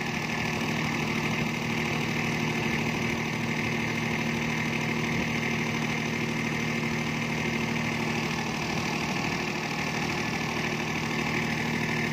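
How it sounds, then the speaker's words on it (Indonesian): The engine of a Doosan LSCK4 lighting tower idles during a cool-down period, a steady, dense mechanical drone with a constant low hum and rattling vibration, loud and unchanging throughout, with no voices. "berikan jeda waktu sekitar 2-5 menit untuk engine melakukan cooling down ataupun pendinginan"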